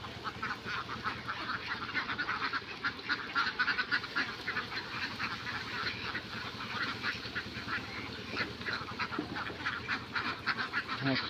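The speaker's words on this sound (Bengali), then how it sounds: "হাঁসটা দেখুন মাঠে থেকে এসে কত সুন্দরভাবে খাচ্ছে" Ducks back from the field feed on grain at a farmyard, giving a steady busy stream of close quacking and honking calls that continues throughout without pause.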